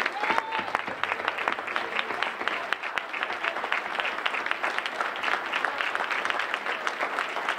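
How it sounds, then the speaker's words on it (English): Audience applause at a Rotary club centennial kickoff gathering, steady dense clapping from a large indoor crowd lasting throughout, loud and close with no pause. "Please join me in a round of applause"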